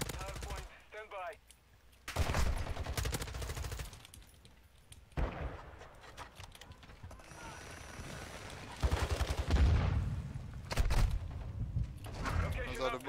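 AK rifle gunfire in Call of Duty: rapid bursts of automatic shots in repeated volleys, loud and close, mixed with other game effects and a player talking over the action.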